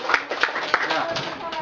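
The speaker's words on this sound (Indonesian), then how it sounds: "Tepuk tangan dulu untuk guru nyanyi kita" Bursts of hand clapping from a group mixed with cheerful chatter and voices, close and lively.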